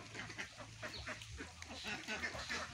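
Young Khaki Campbell ducklings on a farm pond give a steady, overlapping chorus of close, high peeps and quacks, with low background noise underneath throughout.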